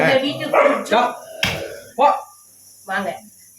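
Dogs barking around a home, a few sharp loud barks in irregular bursts mixed with people talking nearby.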